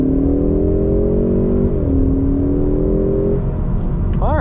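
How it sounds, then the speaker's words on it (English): A 2021-2022 Ford Mustang EcoBoost with its turbo engine pulls hard in sport mode on a side road, droning loudly and rising in pitch with a gear shift partway, then a whistling turbo spool climbs at the end; no talking. "you can hear the engine spool up, of course. You can probably hear a lot of fan noise. That is just the turbo."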